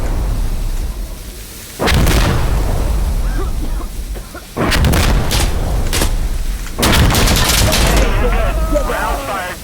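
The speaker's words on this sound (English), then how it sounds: "Rounds fired." Gunfire in the video game Insurgency: Sandstorm: three loud, booming volleys with rumbling tails, each lasting a couple of seconds and separated by brief lulls.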